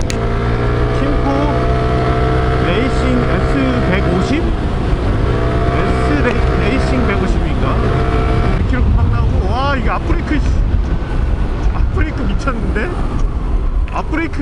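A Kymco Racing S 150 ABS scooter's engine revs and shifts pitch up and down during a test ride, with rising whines and a voice talking over it.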